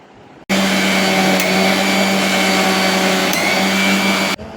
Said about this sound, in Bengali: এখানে পাউডার চিনি আর ডিমগুলোকে একটু একটু করে দিয়ে মিশিয়ে নেব